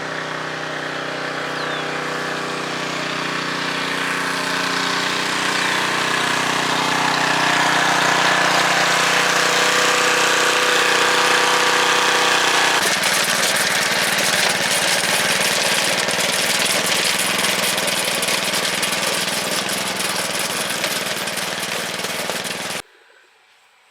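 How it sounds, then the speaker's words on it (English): A farm tractor fitted with a new radiator hose runs with its hood off. The engine idles loudly and steadily for over twenty seconds, with a rough mid-pitched throb and vibration, then cuts off abruptly. "Sounds like Sam got the tractor running."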